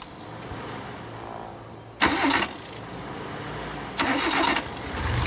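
A Kia Pride with a B1 engine gets two short starter cranks about two seconds apart, each a brief loud whirring burst over quiet background.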